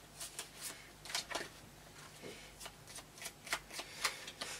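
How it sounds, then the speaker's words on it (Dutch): Playing cards are shuffled by hand in a run of quick, crisp riffling bursts, close and fairly quiet, with no one talking. "Dan wil ik jou vragen om die kaarten even goed te schudden."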